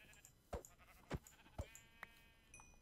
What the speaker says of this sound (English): Come here, you dumb sheep.